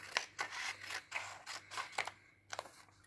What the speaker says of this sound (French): il vous faut prendre des petits ciseaux